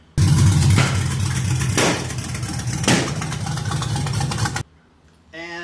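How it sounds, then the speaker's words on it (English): A shop truck engine runs loud and close with a rough, choppy roar, and several sharp backfire pops stand out against it. The engine cuts off suddenly, and a faint voice follows. "it sat and chopped all up until it started backfiring"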